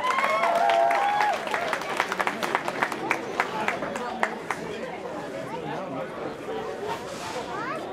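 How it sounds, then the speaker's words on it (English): An audience at the Stoke Con Trent cosplay contest claps and cheers for an entrant. The crowd applause rises, then thins to scattered claps among general chatter and voices in a large indoor hall. "Give them a big round of applause, everybody"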